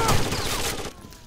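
Loud, rapid bursts of gunfire in a shooting video game crackle in a dense, sustained volley that eases off slightly in the last moments.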